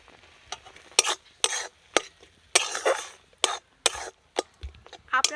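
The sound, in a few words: adding fried crab to curry in pan, stirring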